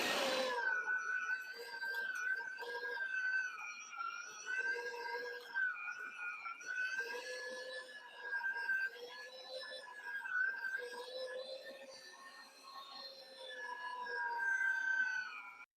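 An electric meat grinder grinds meat for mushroom and Swiss burger sausage, its motor holding a loud, steady whine with a wavering pitch for the whole stretch, uninterrupted by talk.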